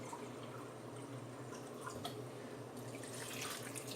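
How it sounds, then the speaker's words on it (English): Water is poured from a cup into a pot of avocado soup, a faint continuous trickling splash that swells slightly near the end, with no voices. "Now we're going to add the water."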